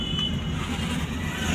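Maruti 800 hatchback being driven, its small engine humming steadily with road noise throughout, close and continuous with no talk.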